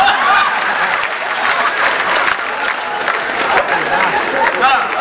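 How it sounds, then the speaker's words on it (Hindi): Loud, steady applause from a comedy-poetry show audience in Delhi, with scattered chuckles and crowd murmur mixed into the continuous clapping throughout. "तालियां बजाओ"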